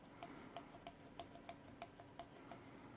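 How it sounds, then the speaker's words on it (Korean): Wet sandpaper rubs on a small 3D-printed figure in short regular rasping strokes, very faint and close, each stroke a light scratchy swipe with no talk. "그러면 물 사포질을 하도록 하겠습니다."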